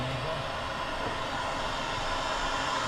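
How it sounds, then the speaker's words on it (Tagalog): Blower runs with a steady, dense broadband roar that stays constant throughout, heard in a warehouse while PVC drain pipe work is underway. "Yan na blower eh."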